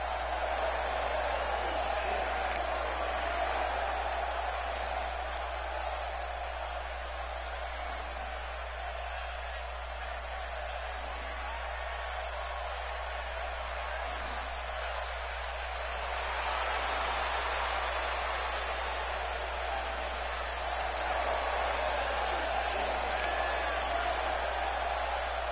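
A wrestling crowd fills the arena with a steady, dense roar of cheering that swells toward the end and sits under the commentators' talk.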